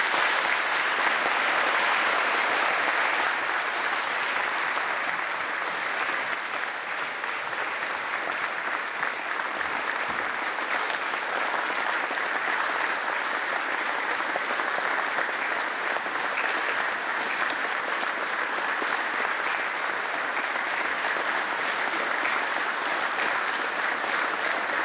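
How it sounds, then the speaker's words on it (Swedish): Long, warm applause from a Swedish audience welcoming skiing legend Sixten Jernberg, a steady, dense clapping that stays loud and even for the full length without breaks. "en stor, lång, varm applåd till kanske den största skidlegend vi haft genom tiderna"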